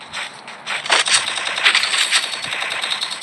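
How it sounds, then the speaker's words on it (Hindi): Rapid automatic gunfire in the Free Fire video game, with repeated bursts of sharp cracking shots crackling at moderate distance across the whole three seconds. "वहाँ पर आगे से फायरिंग की आवाज आ रही है।"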